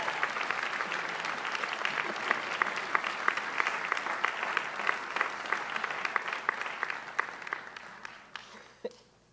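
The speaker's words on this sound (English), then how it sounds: "One more round of applause as they go back to their seats." Sustained audience applause at a graduation-style honors ceremony, a dense steady wash of many hands clapping in a large room that thins out and fades near the end.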